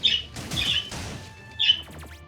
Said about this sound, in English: This entire video is just going to be completely overscored by the birds.